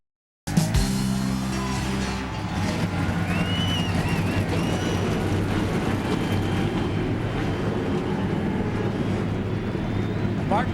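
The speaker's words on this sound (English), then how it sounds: "Gentlemen, start your engines." Busch Series stock car engines fire up at Gateway International Raceway and settle into a loud, rumbling idle, with many cars roaring together over crowd ambience from the stands.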